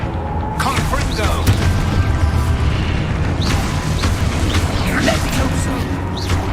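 A Confringo blast spell detonates in a wizard video game, a deep booming burst amid busy, continuous game action and effects, with spoken voices around it.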